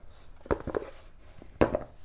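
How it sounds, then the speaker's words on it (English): Dried fruit pits rattle inside a lidded container as it is shaken, a few sharp knocking clusters close by, separated by quiet pauses. "Can you hear those pits rolling around?"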